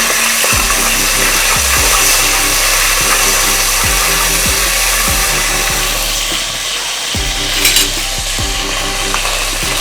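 Ginger garlic paste fries in oil in a pan with a steady sizzle, and a spoon or spatula scrapes and stirs it in a repeated rhythm of clacks over about ten seconds.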